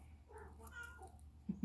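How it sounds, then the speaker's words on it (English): House cat meowing, a short soft meow rising and falling, quiet and close indoors among thrift store jewelry, alone with a couple of small knocks at the end. "It's my cat."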